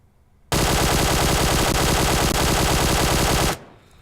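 A QBZ assault rifle fitted with a compensator fires one sustained full-auto burst in PUBG Mobile, about three seconds of loud, rapid, evenly spaced shots that stop abruptly into a brief fading tail.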